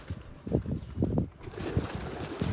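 Pigeon wings flap in a few quick bursts inside a well, with soft rustling and a faint echo.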